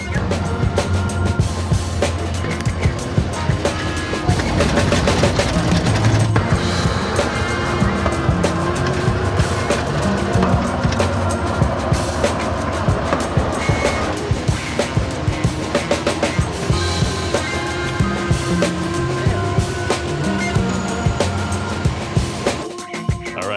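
A packed bus travelling near the border by Nong Khai, Thailand, gives a steady, loud interior road and engine rumble that carries on without a break, with rattles and clatter on top.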